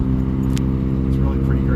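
A two-stroke microcar buzzes along neighbourhood streets with speed bumps, its engine a steady, loud, droning hum heard from close inside the car throughout.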